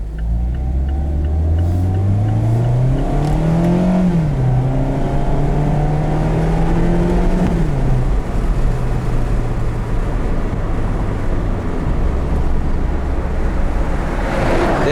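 A 2019 Mazda MX-5 Miata RF engine in manual mode climbs in pitch through the gears, with two brisk upshifts, then settles to a steady cruising drone as the revs drop.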